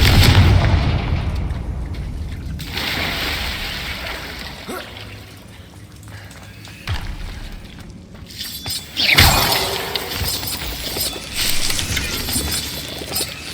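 Confringo fire spell blasts in the Hogwarts Legacy video game: a sharp shattering crack and booming burst, followed by crumbling debris and a second loud impact partway through, all in a busy game mix.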